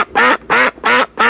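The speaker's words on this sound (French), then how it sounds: "C'est un canard, ça ?" A duck quacks four times in a steady rhythm, each call loud, close and nasal with short gaps between, heard alone without talk.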